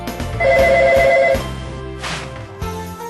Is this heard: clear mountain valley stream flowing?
no